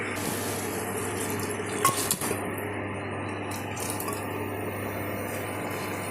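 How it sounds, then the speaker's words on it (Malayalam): Hot water pours steadily into a duck curry in a continuous rushing stream, with a low background hum and a couple of faint clinks partway through. "നല്ല ചൂടുവെള്ളം ഒഴിക്കുക ഇങ്ങനെ"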